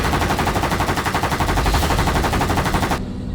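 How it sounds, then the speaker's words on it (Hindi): Rapid, loud automatic gunfire rattles in a continuous burst for about three seconds, then cuts off abruptly. "कोई गोली बरसा रहा है"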